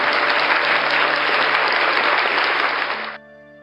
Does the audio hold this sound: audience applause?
yes